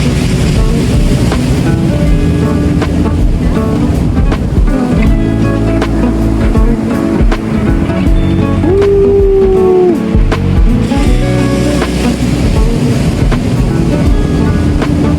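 Strong ocean waves surge onto Dianao Beach in Aurora, a loud and continuous roar close by, with heavy wind buffeting the microphone throughout.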